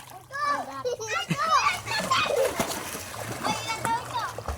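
Children splashing and shouting while bathing in the sea at a free public beach, high voices overlapping with watery splashes throughout, moderately close and lively.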